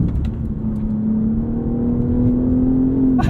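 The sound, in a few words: BMW M3 CS engine accelerating out of a curve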